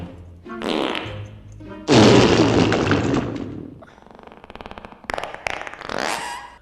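Cartoonish fart sound effect from the live-action Scooby-Doo movie, a series of loud, close bursts, some long and sputtering, others short, mixed with thuds and crashes from the film's soundtrack.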